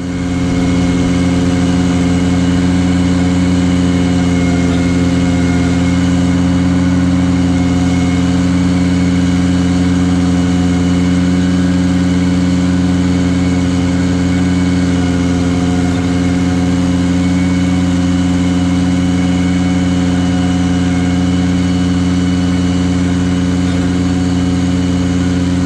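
A Ventrac tractor working a new cultivator over ground prepared with a power rake, its engine droning steadily and loudly at a constant pace throughout, with no talk over it.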